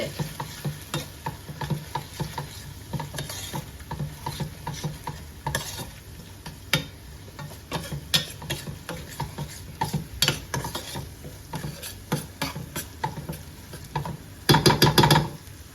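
Garlic and onion with chilli paste and a splash of water are stirred and sautéed in a pan. Repeated scraping strokes run over a low sizzle, close by, and end in a quick burst of brisk stirring.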